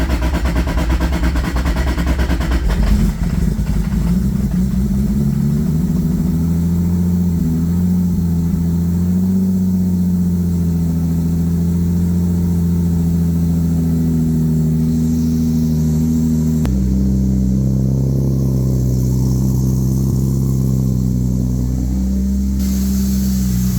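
A 1997 Toyota Supra engine cranks and fires up after a coil swap, then settles into a loud, steady idle close by, with a brief shift in pitch partway through and no talking.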